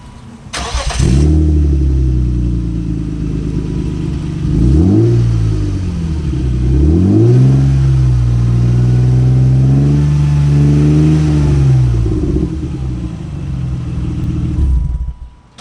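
A 1997 BMW Z3 engine with no muffler on the exhaust starts and then revs repeatedly, each rise in pitch falling back to idle, with a loud, close, raw exhaust rumble.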